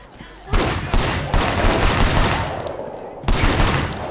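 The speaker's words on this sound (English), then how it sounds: "The gun sounds sound really good." Gunfire in the video game Sleeping Dogs: a loud opening shot, then a dense, sustained burst of rapid shots, with another sharp volley near the end.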